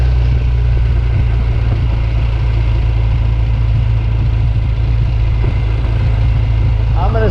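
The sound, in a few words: vintage motorcycle engine running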